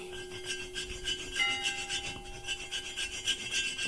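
Close, continuous scraping of a metal file worked back and forth across an alabaster stone sculpture, with even rhythmic strokes and no speech.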